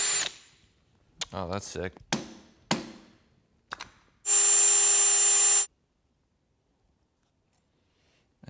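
A power drill and extractor kit working a stripped bolt on a Yamaha Banshee ATV master cylinder. Scattered clicks, taps and short rattling bursts lead to a loud, steady whir lasting about a second, then silence, with a brief spoken remark.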